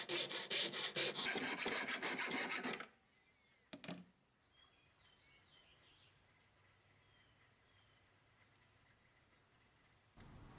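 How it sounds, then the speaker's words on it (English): Steel files rasp steadily against wood inside a hook knife sheath, a loud continuous scraping for about three seconds, followed by a few brief strokes and then quiet room tone. "clean up the inside with some files."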